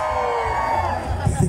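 Women in a concert crowd at a performance during the 2022 Cosoleacaque fair whoop and shout together in a loud, sustained wash of voices that swells near the end.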